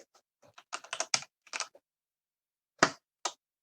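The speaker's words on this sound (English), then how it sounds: "I'm having a hard time typing." Bursts of typing on a computer keyboard while looking up a creature in Roll20, clicking in short quick runs, then two separate louder keystroke clusters after a pause.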